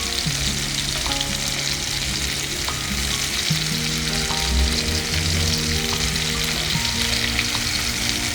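Chicken pieces for butter chicken fry in hot oil, a steady close sizzle and crackle that runs on without any talk.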